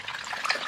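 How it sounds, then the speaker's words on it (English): Dirty creek water drains from a fire pump in a continuous splashing trickle, close and moderately loud, with no talk over it. "we're draining a bunch of dirty creek water out of here"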